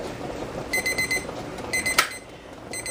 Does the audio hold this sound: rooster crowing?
no